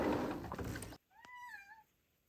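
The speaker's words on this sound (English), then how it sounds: "I can hear my cat's jumping at the door trying to get in." A cat at a door gives one clear, drawn-out meow after a burst of muffled rustling, close and fairly quiet.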